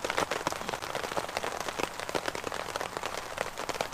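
Heavy rain pours down outdoors in a dense, steady patter of drops striking surfaces, loud and close with no voices.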